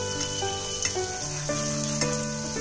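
Paneer is stir-fried in a pan with a steady close sizzle and light stirring scrapes, under a continuous background of tonal sound.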